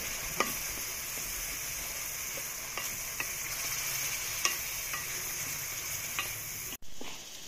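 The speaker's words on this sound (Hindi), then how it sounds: "टमाटर को भी अच्छी तरह से पकाएंगे हम।" Tomatoes frying in a pot with onion and ginger-garlic paste while village cooking a chicken karela dish, a steady close sizzle with occasional stirring scrapes and clicks, no talking.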